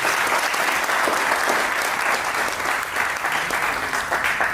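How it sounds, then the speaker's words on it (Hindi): An audience at a company announcement event in Lucknow claps loudly and continuously, a dense, even wash of applause throughout. "जोरदार तालियां अपने लिए बजा दीजिए।"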